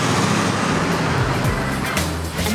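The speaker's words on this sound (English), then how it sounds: "Did you hear the sound of all the traffic at the junction?" Dense traffic at a road junction where two roads meet, with a continuous loud roar of cars and heavier vehicles passing close by and engines rumbling without a break.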